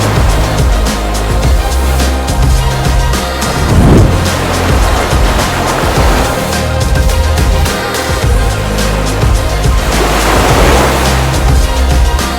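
Ocean surf rolling onto a beach at Puerto Escondido, Mexico, a loud, constant roar of breaking waves with low rumble throughout and no voices.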